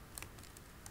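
Typing on a computer keyboard while writing Java code, a few light, quick key clicks in a short irregular burst, quiet and close with no talking.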